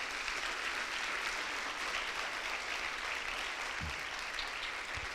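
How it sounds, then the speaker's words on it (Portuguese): Audience at a talk show lecture giving a round of applause, dense continuous clapping from many people filling the room at steady volume for several seconds, with no speech on top. "Eu gostaria de pedir uma salva de palmas para a Paty."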